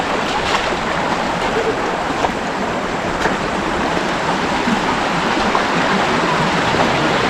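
A small waterfall on the monsoon Tapalwadi trek near Mumbai flows steadily at low volume, giving a continuous close rush of water with a few faint knocks.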